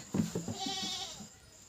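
A goat on a village farm gives a single short, wavering bleat, close and fairly faint, fading out after about a second.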